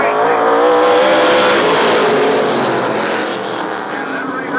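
Super late model race cars roar around Laird Raceway on a restart, a loud, continuous blend of engines passing close by that fades a little toward the end.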